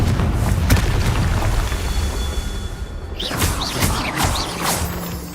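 A Confringo spell explosion booms in a heavy, sustained roar, followed by whooshing sweeps and crackling bursts. It sounds loud and close, with no speech over it.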